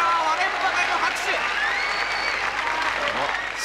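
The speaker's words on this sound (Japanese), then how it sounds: "会場からは割れんばかりの拍手" A wrestling arena crowd in 1984 breaks into thunderous applause and cheering, loud and continuous, with a commentator's voice running over the noise.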